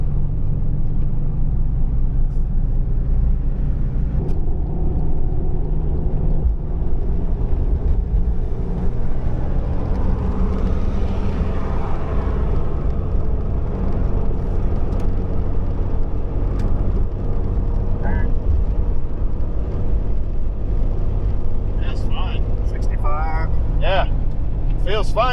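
A steady, loud low rumble fills the cabin of a vehicle cruising on a freeway after having its driveshaft cut and shortened to a custom length, with a brief voice near the end.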